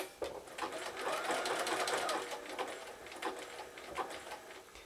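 Sewing machine stitching a zig-zag applique along an outside curve, a steady close rapid whirring with brief pauses where the foot is lifted and the fabric turned.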